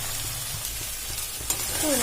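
A close, steady frying hiss comes from bitter gourd, potato and mustard being stir-fried, with a brief utensil knock partway through.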